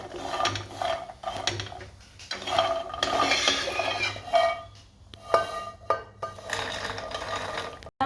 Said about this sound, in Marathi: अक्रोड भाजूया अक्रोड पण मस्त भाजले